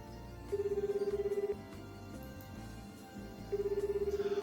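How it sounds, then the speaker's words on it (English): Telephone ringing tone heard in two bursts during a call placed in the Nekopara vol 4 visual novel, each burst lasting about a second and sounding fairly loud over quiet background music. "I make a phone call."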